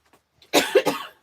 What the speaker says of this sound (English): coughing already